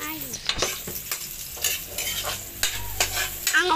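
Garlic sizzling in hot oil for menudo, a steady crackle broken by sharp scrapes and clinks of a spatula stirring in the pan.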